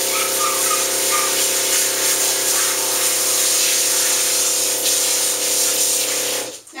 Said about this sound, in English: Because I have control over how much I can spray, it's really just coming out a little bit at a time